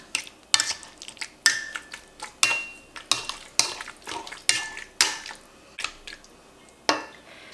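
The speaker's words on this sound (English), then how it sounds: "So I'm just going through and mashing it" Apricots being mashed in a pot for jam, with a masher or utensil striking and squelching in a steady, repeated rhythm of close, distinct wet thumps and scrapes, without any talking.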